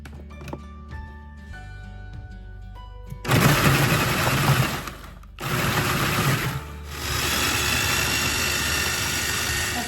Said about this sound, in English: We're just going to put them in this handy dandy food processor.